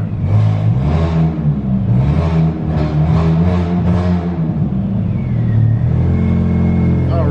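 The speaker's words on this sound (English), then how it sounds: "Race car." A 2004 Mini Cooper S engine revs during a test drive, a loud continuous drone with rising and falling pulses, the pitch climbing and settling repeatedly close by.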